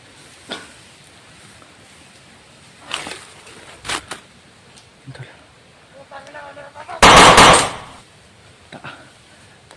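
Gunfire in a shooting video game: scattered sharp single shots spaced apart, then a loud dense burst near the end, with players chattering between the shots.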